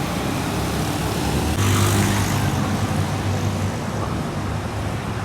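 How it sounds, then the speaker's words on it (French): Cars pass along a street in Lomé, Togo, with a loud, continuous roadway rumble that swells as a vehicle goes by close and then eases back into steady traffic noise. "Là, il y a des voitures qui passent."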